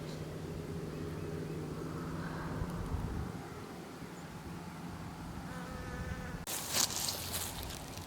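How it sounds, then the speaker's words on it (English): A honeybee buzzes close by among dandelions outdoors, a steady droning hum with shifting pitch as it moves, ending in a brief loud rustle. "That is a honeybee."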